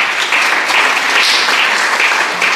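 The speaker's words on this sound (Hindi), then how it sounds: "तो भरपूर तालियाँ उन सब के लिए जो इस उर्दू के प्रोग्राम में तशरीफ़ लाएँ" Loud, sustained applause from the audience at an Urdu mushaira and book inauguration program, dense continuous clapping filling the hall without pause and with no speech over it.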